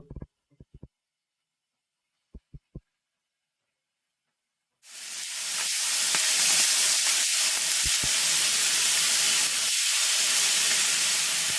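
Squid hits a hot pan for a creamy pasta sauce, cooked outdoors over a fire. A few soft knocks come first, then a sudden loud sizzle and hiss surges up and keeps going strong and close.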